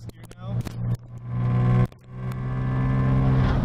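A turbocharged car in sixth gear, its engine tone climbing steadily after a couple of brief gaps, with a loud, close rising drone that builds toward the end.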